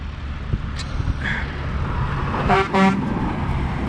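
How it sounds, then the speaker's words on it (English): A farm spray truck passes nearby with engine rumble, and a couple of short horn toots sound partway through. "there goes Pappy Tyler with the spray truck"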